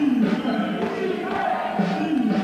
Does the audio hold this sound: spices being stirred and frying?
no